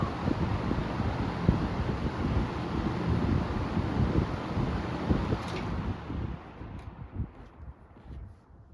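Vornado 810 and Sears 8121 electric fans running together, a steady broadband whoosh of moving air that stays loud and even, then eases off a little toward the end.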